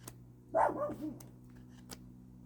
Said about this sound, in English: And of course the dog would start barking just at this time.